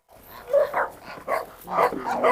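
A puppy on a farm makes small barks and whimpery yips while eating chicken, in short uneven bursts close by over a quiet background.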